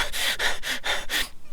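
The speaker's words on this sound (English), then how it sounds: "panting for air and mewling from the pain of the cramp in his side" A man pants for air after running, five quick, harsh breaths in a steady rhythm, close and loud, then a brief pause.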